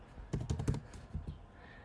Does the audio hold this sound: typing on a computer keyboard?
yes